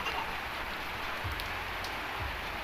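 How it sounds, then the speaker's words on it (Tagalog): Steady rain falls outside, a continuous soft hiss with faint low rumbles, heard alone at a moderate distance. "But it's raining."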